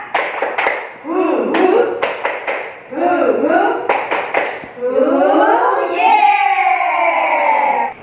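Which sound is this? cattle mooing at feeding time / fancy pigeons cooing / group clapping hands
group clapping hands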